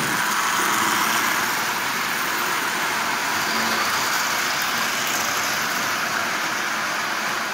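A Marx 994 toy train motor runs steadily, giving a constant whirring, buzzing drone with no breaks or changes in pitch.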